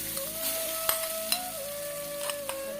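Grated coconut fries in ghee in a pan with a constant close hiss. A faint steady tone runs through it, and a few soft clinks of stirring break in, with no talking.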